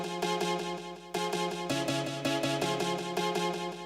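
A synth lead in a jungle production plays each note together with its octave above, in a steady repeating rhythmic pattern of loud, bright, buzzy stabs that shifts pitch partway through.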